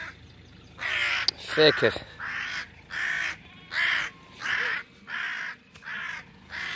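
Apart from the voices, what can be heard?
crows cawing over a dead ewe on a farm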